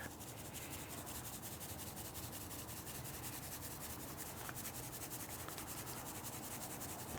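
Hands rubbing black pepper and barbecue rub over a raw brisket, a steady, close, continuous dry scrubbing texture with no talking.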